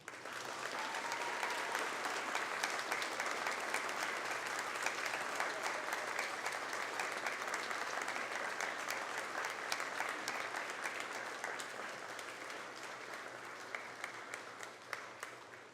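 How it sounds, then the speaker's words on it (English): Ceremony audience applauding steadily for about fifteen seconds, a dense, even wash of many hands clapping that holds throughout and eases slightly near the end, with a brief voice early on. "give them a thunderous round of applause for what they have done for you"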